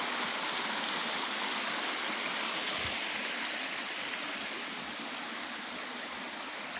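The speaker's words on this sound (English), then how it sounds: "It's a tranquil little waterfall." Steady rushing water from a small waterfall at Bridal Veil Falls on Tinkers Creek, Bedford, Ohio, constant and close, with no other sounds standing out.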